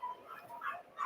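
Dogs somewhere below the room give faint, distant yips and barks in a few short bursts, heard alone.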